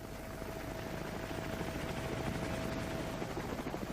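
Military helicopters of the American 101st Airborne Division fly over the Iraqi desert, a dense continuous rotor drone with a faint steady whine, distant and uniform throughout.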